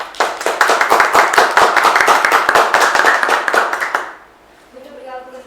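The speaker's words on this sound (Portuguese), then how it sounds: "Salve de palmas para ele." Enthusiastic applause from a podcast studio audience welcoming an author guest, dense rapid clapping for about four seconds before fading into a quieter pause with a faint tone.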